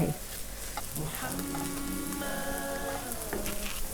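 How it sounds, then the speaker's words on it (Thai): Dried shrimp stir-frying in a pan for an egg and bird's eye chili dish, a steady close sizzle with a few spatula knocks, and a brief tonal sound rising in the middle. "เอาผุ้งแห้งผัดไป"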